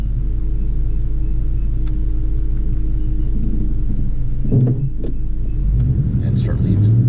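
A manual transmission car pulls away on a hill start, its engine a low steady rumble that rises as the clutch engages, with a few brief clicks and a voice talking over it.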